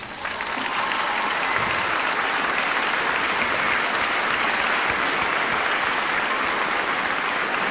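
Sustained, loud audience applause fills a hall at an Armenian community event, a dense steady roar of many hands clapping without a break throughout.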